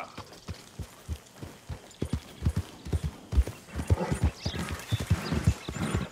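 A horse gallops in Red Dead Redemption 2: loud, close hoofbeats pound in a steady, quickening clip-clop rhythm throughout, with a brief whinny-like note in the mix.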